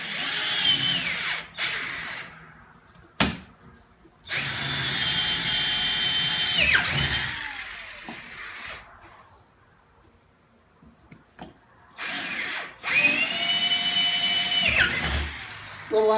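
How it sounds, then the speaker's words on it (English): A power drill runs in several long, loud bursts, grinding steadily into a new kitchen countertop to cut a sink hole, with short pauses and small clicks between runs. "Little unnerving drilling into your brand new countertops."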